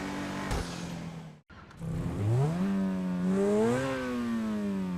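V-STR car engine in GTA Online revving up and down, smooth rising and falling engine tones after a brief cut, loud and close with no talking.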